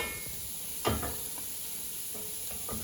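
Andouille sausage and garlic are stirred into a pot of gumbo, giving a soft continuous sizzle with a few scraping stirs of a spoon, close but fairly quiet.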